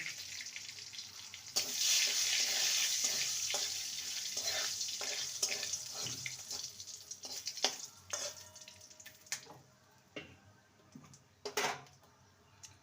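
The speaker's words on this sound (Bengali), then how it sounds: "তেজপাতা ফোড়নটাকে কয়েক সেকেন্ড ভেজে নেব" Dried red chilli halves and bay leaf tempering with asafoetida frying in oil for a drumstick curry, a loud steady sizzle that fades into scattered spoon clatter and sharp clinks against the pan, no voices.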